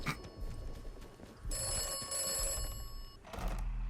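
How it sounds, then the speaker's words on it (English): A telephone bell rings in the Atomfall video game, a bright metallic ring burst lasting under two seconds followed by another starting, fairly faint against low background rumble. "Is this phone gonna ring? Yeah, I thought it might."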